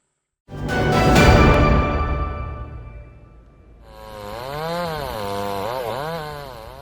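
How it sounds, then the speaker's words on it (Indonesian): A chainsaw cuts through a fallen tree trunk as a roadside crew clears it away, loud and close, its engine note revving and bogging, then swooping up and down in pitch with no talk. "Menggunakan gergaji mesin, petugas gabungan mulai dari BPBD, tentara, polisi, dan relawan berupaya menyingkirkan batang pohon"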